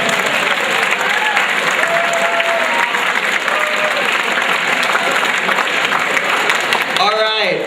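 Students recognized as 4-star achievers at a school morning show get a steady, full round of clapping from a crowd, loud and continuous throughout, tapering near the end.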